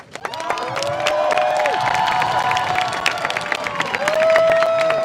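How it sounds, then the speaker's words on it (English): A crowd at a drag march in Chicago's Boystown claps and cheers, a sustained mix of applause and whoops under scattered shouts, with a voice calling out over the noise. "Yes. Keep clapping."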